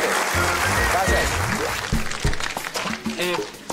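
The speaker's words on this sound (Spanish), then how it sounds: "el aplauso muy grande para ellos" Applause for performers on a Saturday TV variety show, a short burst of clapping from the studio audience that fades as a voice talks over it.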